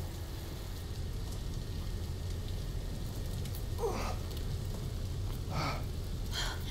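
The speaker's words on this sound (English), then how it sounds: "Seems to always be raining in this game." Rain falls steadily in the video game Tomb Raider (2013), a soft, constant hiss with a few brief louder splashes or crackles near the end, heard alone.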